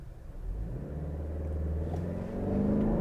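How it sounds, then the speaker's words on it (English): A 2023 Lexus NX 450h+ F-Sport hybrid SUV launching off the line with traction control off, a low engine rumble swelling into a rising rev as it accelerates, heard from inside the cabin. "this thing feels so quick off the line because of the electric motor"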